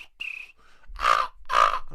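A beatboxer imitates a crow with two harsh, drawn-out caws, drenched in echoing reverb after a few softer tones.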